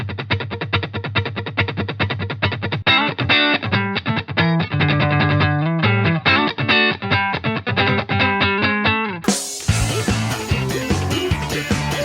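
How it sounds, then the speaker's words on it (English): Funky electric guitar riff from a Splatoon 2 track, played loud with effects as tight, choppy rhythmic strums, then joined by a fuller, denser band for the last few seconds. "By doing that, the guitar riff sounds something like this."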